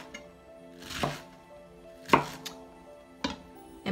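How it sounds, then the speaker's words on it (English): Knife chopping mushroom on a cutting board for a Japanese home meal of sushi and edamame, four sharp, separate cuts spaced about a second apart, close and clear with no talking. "First of all, let's cut the mushroom."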